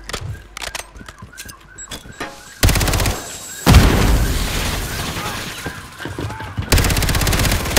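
Bursts of rapid gunfire and loud blasts from a shooter game, with quieter clicks and game sounds in between, then heavy sustained firing.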